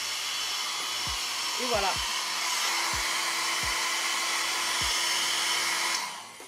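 A compact travel hair dryer runs on its strong setting, a steady close whoosh of blowing air held for several seconds before it cuts off, with brief speech over it.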